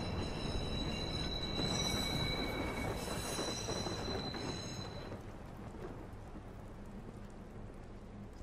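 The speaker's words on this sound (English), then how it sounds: "Southbound train arriving shortly." A southbound train pulls into a station in the Watch Dogs video game, its wheels squealing on the rails in a steady, loud metallic screech over heavy rumble, easing off toward the end.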